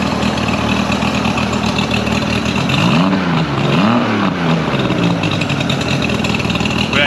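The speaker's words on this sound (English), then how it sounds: "Motor sounds much better now that the timing is supposed to be where it's at." A Mercury 50hp outboard engine, with its ignition timing freshly adjusted, idles in a steady, loud, close drone, swelling in two brief revs midway before settling back to idle.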